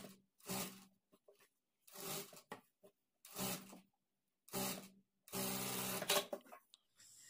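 A sewing machine stitches a puff sleeve onto a garment body in short bursts of whirring motor and needle clatter separated by silences, close and moderately loud, with no talking.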